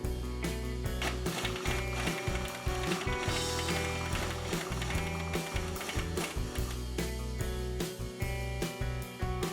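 Hand tools unbolting suspension parts such as the tie rod and control arm on a 2014-2018 Ford F-150 4WD truck, with repeated metallic clicks and ratcheting clanks in an irregular rhythm, close up and without talking.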